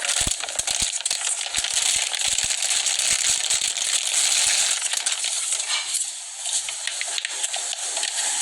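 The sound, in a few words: unwrapping a PS5 game controller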